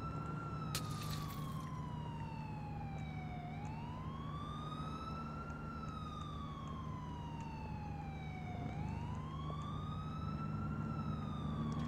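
A police car siren wails in the video game GTA 4, rising and falling in slow sweeping cycles over a steady engine drone, continuous and fairly faint.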